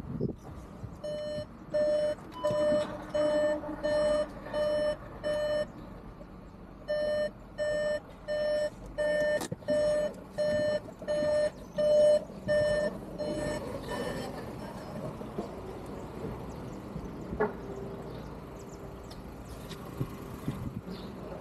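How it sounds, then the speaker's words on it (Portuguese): A Volkswagen Virtus car reverses slowly while its parking sensor beeps in a steady rhythm of regular pulses, with the engine humming low underneath, then the beeping stops and faint ambient noise remains. "Vou voltar o carro um pouquinho para trás."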